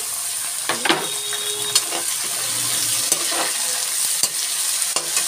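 Onion, garlic and tomato fry in a pan with a steady sizzle, broken by scraping stirs and a few sharp clinks of a spoon against the metal, close up.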